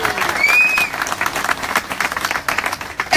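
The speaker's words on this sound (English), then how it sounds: "So let's give her a round of applause." A rally crowd claps and cheers, a thick burst of applause that thins into uneven patters, fairly close, with a few raised voices and a whistle rising above it.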